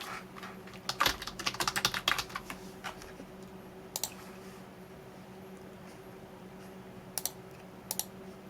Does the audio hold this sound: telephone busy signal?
no